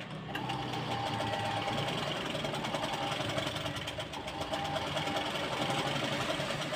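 A sewing machine runs a straight stitch on blouse fabric, a steady, close whirring drone with rapid needle ticking that continues unbroken for several seconds.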